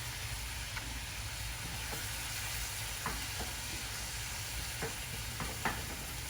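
Green onion stalks stir-frying with beef for udon, a dense, even hiss of frying with light intermittent clicks from stirring, fairly quiet and without any talking.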